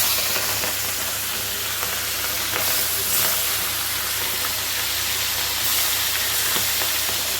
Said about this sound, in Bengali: এখন মাছগুলো ফ্রাই করে নেব।